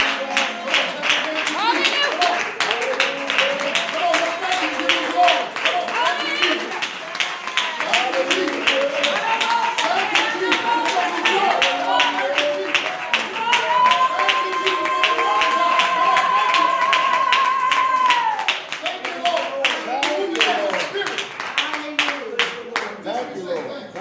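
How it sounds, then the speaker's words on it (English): Fast, steady rhythmic hand clapping from a congregation during an intense prayer service continues throughout, mixed with loud voices praising and singing. "clap your hands for Jesus"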